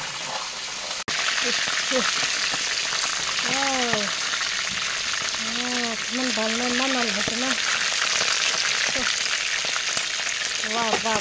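Meat fries in a pan with a loud, steady sizzle throughout, close by, while a voice talks intermittently over it.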